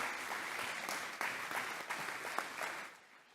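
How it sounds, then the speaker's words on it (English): Applause from the audience at an annual meeting livestream, a steady wash of many hands clapping that holds fairly evenly before tapering off at the end. "let's have another round of applause for both the individual and the organization"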